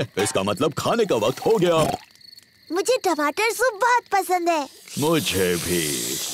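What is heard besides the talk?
insects chirping at night, from a cartoon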